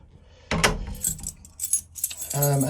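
Keys jangle as a door lock is secured, a short metallic clatter up close followed by a brief bright tone.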